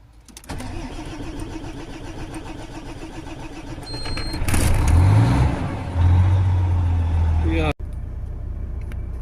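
After an engine rebuild, a car is cranked and started, idles with a rough rumble, then revs and pulls away into a steady driving drone. A clunk and a brief drop come near the end, and voices can be heard in the background.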